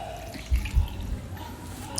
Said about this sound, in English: And then we'll add enough water for the gravy.